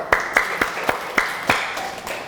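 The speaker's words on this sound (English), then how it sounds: "Clap." Several sharp handclaps from a child at a steady, slightly uneven rhythm, close by, over a faint background.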